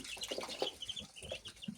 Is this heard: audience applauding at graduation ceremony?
no